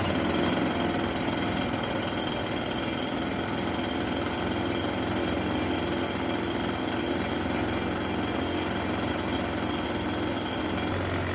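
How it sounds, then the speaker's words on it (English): A small two-stroke engine running on Amsoil Saber oil idles steadily at close range, a continuous, even mechanical drone with a faint rattly texture that holds unchanged throughout. "Let's get the Amsoil Saber going for the 5-minute idle and then temperature check."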